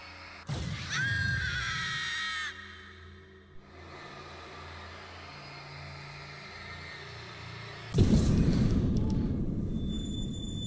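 A scream in the Alan Wake Remastered game, DLC The Signal: a loud harmonic wail rises suddenly and holds for about two seconds, followed by quieter ambient rumble and then a heavy burst of noise near the end.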